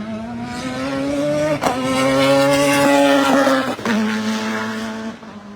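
Race cars, including a Lotus, roar past a tower at a racing event. Several engine notes rise and fall as each car passes, with revving and gear changes in close succession.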